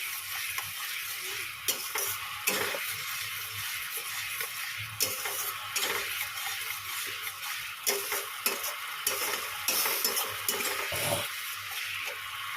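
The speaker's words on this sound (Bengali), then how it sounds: "দেখো এখানে ঝোলটা ফুটছে" Gravy for poppy seed fritters bubbles and spits in a pan on the stove, a dense, steady sizzling hiss with frequent small pops and occasional soft clinks.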